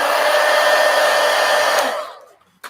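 A hair dryer blows loudly and steadily on acrylic paint washes in a book, running for about two seconds before switching off and leaving near silence.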